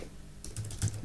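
Typing on a computer keyboard sounds as a short run of quick, light key clicks, close and fairly quiet, with a faint background hum before the keystrokes begin.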